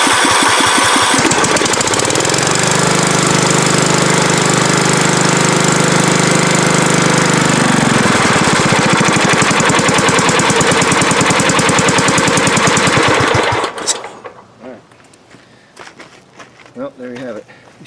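A Scotts riding mower fitted with a new carburetor, recorded outdoors on a warm day, cranks and fires, then runs with a loud, steady rough engine drone for about thirteen seconds before cutting out abruptly, leaving faint background noise.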